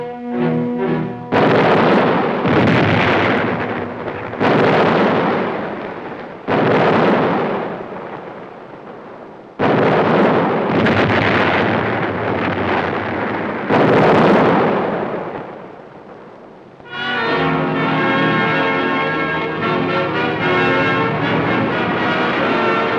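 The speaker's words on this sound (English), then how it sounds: "the demolition crews moved in with a mass barrage of explosives" Demolition explosives blasting open Antarctic ice crevasses, a series of loud, booming detonations with rumbling decays, each burst following the last every few seconds, then giving way to music toward the end.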